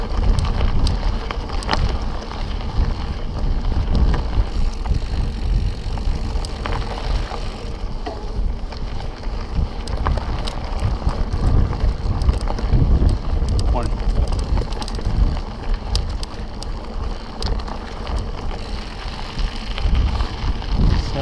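A mountain bike climbs through a rocky rock garden section on the Napa Skyline trail, its rattling rumble buried under loud, steady wind buffeting the helmet camera for the whole stretch.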